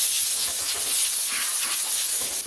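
A compressed air line gives a saw a light dusting to clear residual dust, producing a steady, close hiss that runs unbroken throughout with no talking.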